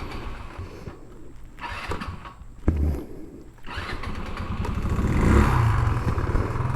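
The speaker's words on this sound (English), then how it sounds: "let's go ahead and take it for a test ride. Turn it on." A 2009 Genuine Buddy 125 scooter with a weak battery being started for a test ride, a short cranking burst and then the small engine catching and rising to a steady, louder running note, close by.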